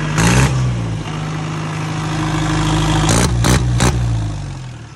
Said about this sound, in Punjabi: ਇੱਕ ਵਾਰ ਸਟਾਰਟ ਕਰਕੇ ਦਿਖਾਈ ਆਹ ਸਲਾਂਸਰ ਦੂਜਾ ਲੱਗਿਆ ਹੋਇਆ ਹੈਗਾ